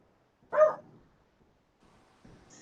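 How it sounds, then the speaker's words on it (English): A dog indoors gives one short, sharp bark, then a faint trailing whimper, followed by near silence and a soft low sound at the end. "We need to stop her barking."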